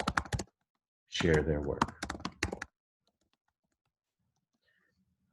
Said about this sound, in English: so I'm the only one typing